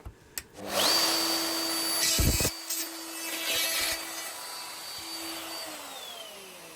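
A power saw cuts through material on a Wolfcraft MFT table, a loud steady whine running for several seconds with a brief dropout midway, then continuing before tapering off; no talking.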